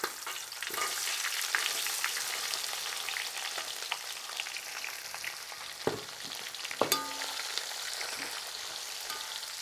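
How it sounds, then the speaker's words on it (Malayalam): Five sliced onions are stirred and sautéed in hot oil for a quail egg curry, a dense, continuous close sizzle with a few sharp scraping clinks from the spoon against the pan. "നമ്മുടെ സവാള നല്ലോണം ഇളക്കി ഒരു ബ്രൗൺ കളറായി വരണം"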